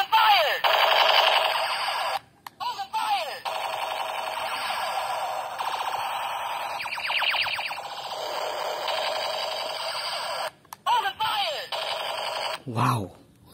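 A battery-powered Minecraft toy gun sounding off with loud electronic warbling, siren-like tones and bursts, repeatedly cutting out and restarting, with a short voice near the end.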